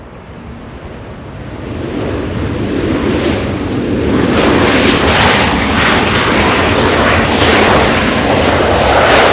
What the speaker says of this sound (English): That was a chartered flight based out of Fort Worth